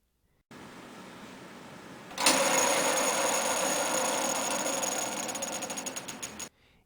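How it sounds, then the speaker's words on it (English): A conveyor roller bearing spins by hand, giving a soft rolling rumble that swells sharply after a couple of seconds, holds as a steady whirring hiss, then cuts off abruptly; nobody speaks. "One test to determine the style of bearings is to spin it."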